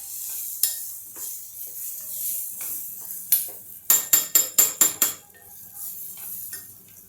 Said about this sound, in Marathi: 1 चमचा बेसन घालून मी हे थोडंसं परतून घेते